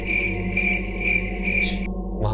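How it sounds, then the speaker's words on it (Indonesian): A cricket chirps on a mountain at night in steady repeated bursts, loud and close, with a low background hum and no talk over it. "Ada suara jangkrik."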